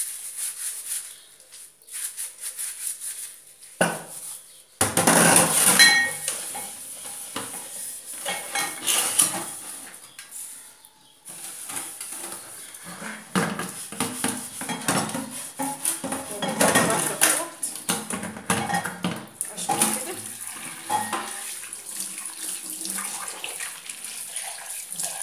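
A brass mortar is scrubbed with liquid soap and water, with irregular metallic clinks, scraping rubs and running-water splashes in bursts, close by, with a voice talking at moments.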